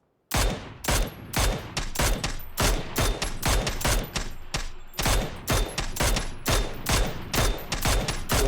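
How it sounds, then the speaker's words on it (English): Gunfire in the video game PUBG during a duos tournament, dense rapid volleys of loud, close shots with brief gaps, almost continuous for several seconds. "Lots of shots taken with Hot Smoking Gun, and they cannot land here."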